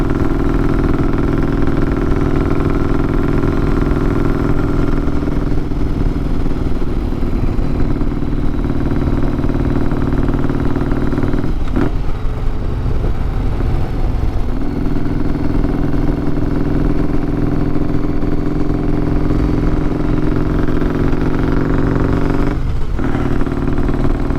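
A 1994 custom motorcycle being ridden on a work commute, its engine a steady, loud drone that holds throughout, with a couple of brief clattering bumps from the ride.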